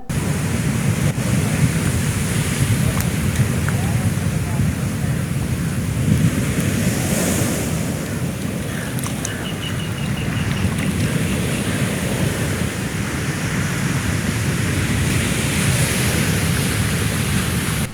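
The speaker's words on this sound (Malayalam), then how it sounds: "50 മീറ്ററോളം ഉള്ളിലേക്ക് തിരമാല അടിച്ചു കയറി." Heavy sea waves roar and surge continuously past a broken seawall, a dense rumbling wash that swells and ebbs without pause.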